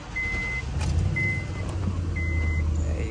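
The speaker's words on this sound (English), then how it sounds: "Let me turn off the car, turn it back on." A Honda Accord turned off and started again, its engine running with a steady low hum while three spaced warning chimes sound over it, close and without talk.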